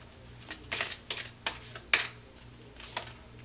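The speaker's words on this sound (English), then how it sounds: "I can't shuffle today, you guys." Tarot cards are shuffled by hand in a quiet room: a series of soft, quick riffling and slapping bursts, some close together, with one sharper snap near the middle.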